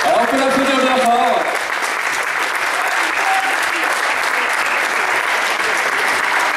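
Sustained, loud applause fills the space for the first-place winner at a Mantes event, briefly overlapped by a speaking voice near the start before continuing alone.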